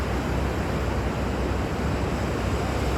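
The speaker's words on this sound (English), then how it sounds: "Look at those waves." Ocean waves roll in from far out, making a steady, unbroken broadband wash of surf that holds at an even loudness throughout, with no voices.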